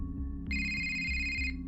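A mobile phone ringtone, used as a sound effect in a narrated story, plays a bright, steady electronic tone for about a second over a soft rhythmic music bed.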